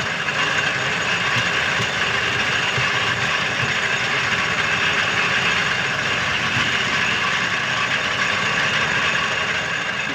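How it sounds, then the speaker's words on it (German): A 1902 Mercedes Simplex car engine runs steadily and loudly throughout, a dense rough idling rumble with a constant knocking texture and no breaks. "Wir schreiben das Jahr 1902, der Mercedes Simplex. Ich habe mal ein Geräuschbeispiel mitgebracht."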